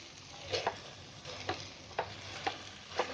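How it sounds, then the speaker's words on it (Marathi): Dill leaf vegetable dish with lentils being stirred in a pan after the lid is lifted: soft, low sizzling under a series of regular spatula scrapes and taps, close but quiet. "आता आपण झाकण खोलायचं आणि भाजी आहे ना चांगली हलवायची"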